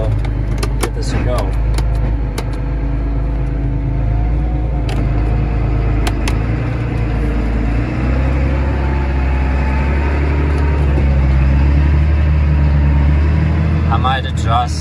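Low, steady drone of a four-wheel-drive tractor engine pulling a Sunflower Saberblade 6630 disc through corn stalks, constant and close from inside the cab, with a few clicks and rattles over it.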